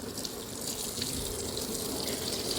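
Hot water runs steadily from a household tap as ice cream is washed off, a constant close hiss of flow filling the sink with no talk.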